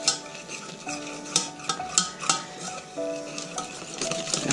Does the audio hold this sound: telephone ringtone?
no